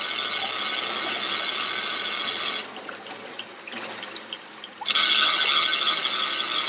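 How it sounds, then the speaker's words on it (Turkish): A tractor engine runs steadily on a deep-sea fishing trip, a loud broadband drone with water noise that drops away for about two seconds before surging back louder. "Makine traktör."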